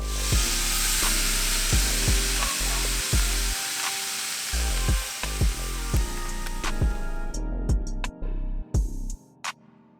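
Beef sizzling directly over hot coals inside the cooking chamber of an Oklahoma Joe's smoker, a steady loud fry with repeated sharp pops and crackles; nobody speaks.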